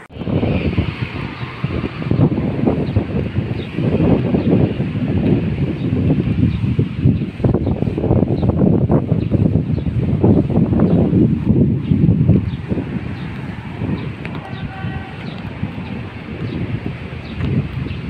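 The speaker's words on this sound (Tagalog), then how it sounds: "Sarap ng hangin kahit mainit." Warm breeze blowing outdoors on a hilltop plaza, a steady broadband rush of wind buffeting the microphone for the whole stretch, fairly loud and continuous with gusty swells and no talk.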